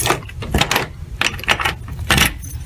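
House keys jangle in several bright metallic bursts, close and fairly loud, with short pauses between the shakes.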